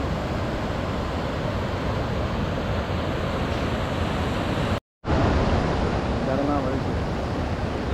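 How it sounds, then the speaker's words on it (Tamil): Heavy river water rushes steadily over the Thamaraipakkam check dam on the Kosasthalaiyar river, a loud, continuous broadband roar up close that cuts out briefly and then returns at full strength. "இப்போ பார்த்தீங்கன்னா 2000 கன அடி நீர் வந்துட்டுருக்கு"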